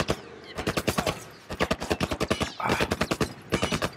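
Automatic gunfire in The Last of Us, rapid sharp bursts of shots in quick runs with short gaps between them, loud and close with no talking.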